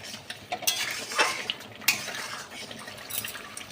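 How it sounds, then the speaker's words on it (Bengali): Masala spices with turmeric and chilli powder are stirred in a pan, a soft frying sizzle under sharp intermittent clinks and scrapes of a metal spoon against the pan, close and without speech. "দিয়ে আমি আবারও খুব ভালোভাবে নাড়াবো"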